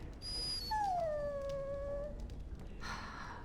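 A dog in Dragon Age Origins lets out a single drawn-out, high whine that slowly falls in pitch, faint against a steady low background hum, followed by a brief soft rustle.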